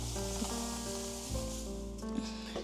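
Hot tempering oil sizzles steadily as asafoetida is dropped in with the gas switched off while making thin poha chivda, a close, continuous hiss with a low hum under it and no talk.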